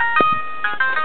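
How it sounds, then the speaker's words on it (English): A phone ringtone plays a bright, tinny electronic melody of short repeated tones, loud and close, with a couple of soft knocks in between. "I'm calling this phone to see if it will ring."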